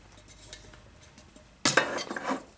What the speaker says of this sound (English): This is an Esbit half litre titanium cooking pot